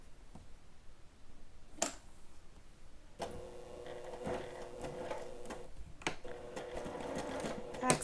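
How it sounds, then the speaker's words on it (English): A sewing machine stitches folded fabric side ties together for a child's dress bodice, starting after a quiet moment with a click, then running in a steady rapid mechanical patter, moderately close. "Now I'm going to sew my side ties together."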